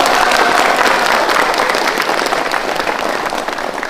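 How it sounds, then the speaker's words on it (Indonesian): A crowd at an Indonesian gathering gives loud, dense applause that stays thick and steady throughout, easing off only slightly toward the end, with no voices over it. "ayo tepuk tangan"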